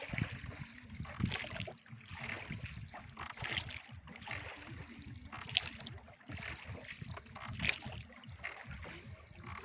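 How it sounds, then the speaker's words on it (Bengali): Oars or paddles working a small boat on the water at Maithan, with soft rhythmic splashes and strokes repeating steadily over a constant watery background, moderately close. "দাঁড় টানা একটা আওয়াজ পাওয়া যাচ্ছে, এই সেই বৈঠা, এই যে আওয়াজ"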